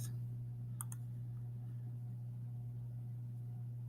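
A computer mouse clicks close by, a sharp single click at the start and then a quick double click, all over a steady low electrical hum.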